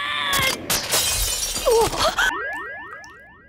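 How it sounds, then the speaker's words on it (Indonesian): A glass bottle is smashed in an Indonesian ghost story: several sharp crashes and shattering hits, followed by cartoonish springy boing-like sweeps that trail off. "Dan benar saja, botolnya pun langsung pecah."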